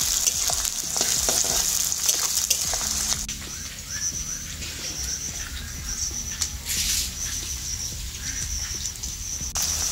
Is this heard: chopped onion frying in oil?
yes